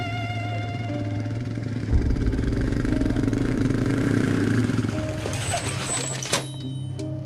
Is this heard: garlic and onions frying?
no